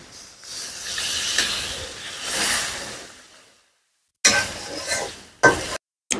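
Hot water poured into sizzling garlic spice paste in a pan for Kashmiri stuffed potato curry, a loud broad hiss that swells and fades, then cuts to silence before shorter bursts of sizzle return.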